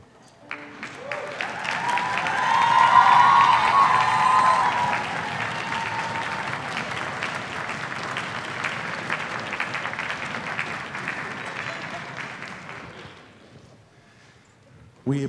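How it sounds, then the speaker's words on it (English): Children at a summer music camp applaud and cheer for their parents, a loud, dense crowd clapping that swells quickly, holds for several seconds, then gradually fades out. "can you please stand and receive an ovation from your children"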